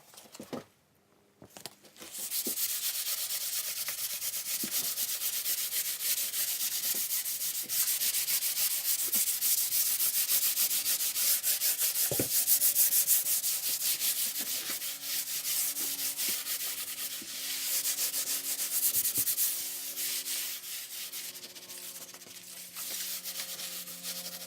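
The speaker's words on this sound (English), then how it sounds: "give it a light sand with like a 400 grit paper" A wooden rustic storage chest gets hand-sanded with 400 grit paper, a soft continuous rubbing scrape heard up close for about twenty seconds after a quiet start.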